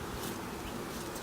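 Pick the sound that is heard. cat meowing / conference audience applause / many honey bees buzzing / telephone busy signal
many honey bees buzzing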